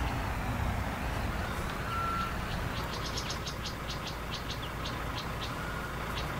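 A giant construction truck in Construction Simulator 2022 backs up, sending a clear run of evenly spaced reversing beeps over a steady engine drone and insect-like ambient chirping.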